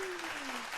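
A brief burst of applause sound effect plays on a podcast, a short dense wash of clapping with a faint tonal sweep beneath.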